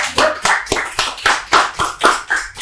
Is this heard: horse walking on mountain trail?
no